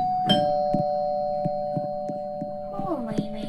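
Doorbell chime in the Roblox game Bloxburg, sounding as a couple of clear tonal notes near the start, followed by soft repeated taps and a rising chime toward the end, with a voice speaking quietly over it.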